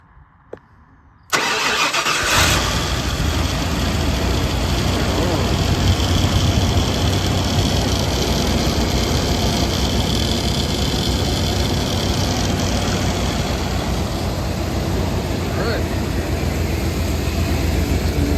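A Ford EFI 460 V8 in an OBS Ford truck, run without its cab, cranks after a brief near-silence and catches, then settles into a loud, steady rumbling idle that continues to the end.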